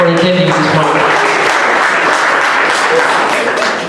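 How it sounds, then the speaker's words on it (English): A seminar audience applauds in a dense, steady burst of clapping that holds loud throughout and eases off slightly at the end. "Give yourselves a round of applause."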